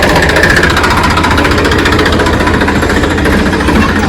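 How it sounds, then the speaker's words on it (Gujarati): Farm tractor engine with a rapid, pulsing knock, running loud and close in a steady rhythm as it pulls away across a field. "ચલો મિત્રો, ટ્રેક્ટર તો હેડ્યું."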